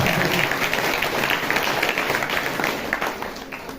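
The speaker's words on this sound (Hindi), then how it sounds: "ताली बजा के परमेश्वर का धन्यवाद" A church congregation claps in thanks to God during a Hindi sermon, a dense, steady wash of many hands filling the room at close range for several seconds.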